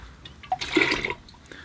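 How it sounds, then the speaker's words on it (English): Water is poured out of a watercolor painter's water pail in one brief splashing gush, fairly quiet and alone. "So I'm going to empty out my water pail."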